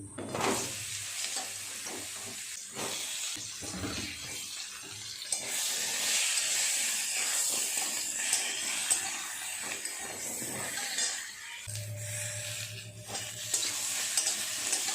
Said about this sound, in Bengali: সবজিগুলো ভালো করে ভেজে নেব।